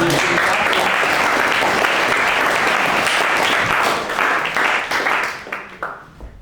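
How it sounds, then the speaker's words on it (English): A church gathering audience claps in a full, even round of applause that holds strong for several seconds, then thins into scattered claps and fades out. "Give him a round of applause."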